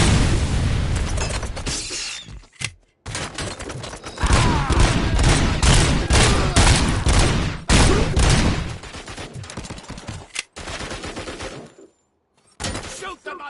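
Heavy gunfire from the video game RoboCop: Rogue City, loud bursts and booming shots rattling in rapid volleys with brief pauses, filling most of the stretch.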